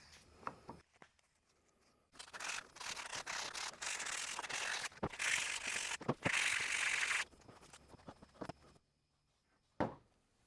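Grinding and scrubbing on the main housing of an old Ford flathead starter motor, loud rasping bursts in uneven stretches with short quiet gaps and a few sharp knocks.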